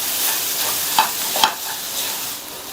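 Shredded cabbage being stirred into masala in a hot pan, with a soft continuous sizzle and a few light scraping knocks of a spoon.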